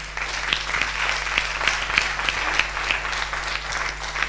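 An audience at a live music show breaks into sustained applause, a dense wash of clapping with a few sharper individual claps standing out, heard up close over a low background hum.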